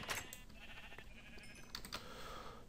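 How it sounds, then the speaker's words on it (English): A sheep bleats in the Minecraft video game, a faint brief call amid soft keyboard clicking and low background hum. "There's another sheep that I'm gonna kill."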